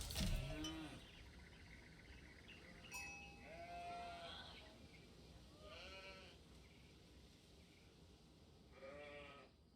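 Sheep bleating in the video game Age of Empires IV, several separate wavering bleats spread over quiet background, fairly faint and without talk.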